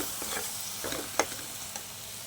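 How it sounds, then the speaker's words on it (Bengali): Grated tomato fries with onion, ginger and garlic masala for chicken bharta, a close, steady sizzle broken by a few soft scraping stirs of the spoon, with no talking. "এবার আমি টমেটোটা দিয়ে আবার ভালো করে ভেজে দেবো।"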